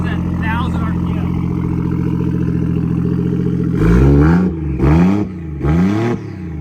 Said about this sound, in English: Definitely a loud exhaust.